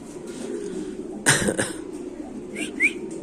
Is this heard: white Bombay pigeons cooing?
yes